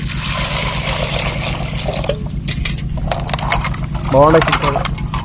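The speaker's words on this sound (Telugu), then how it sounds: "చింతకాయలను అయితే ఒకసారి నీళ్ళు పోసుకొని నీట్గా అయితే కడుక్కుందాము" Raw tamarinds are rinsed in water, with splashing and trickling close by along with intermittent clatter and a low background hum, while a voice speaks partway through.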